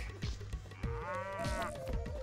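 A cartoon cow mooing in the prank game Neighbours from Hell 2, one long drawn-out moo rising and holding, over steady background game music.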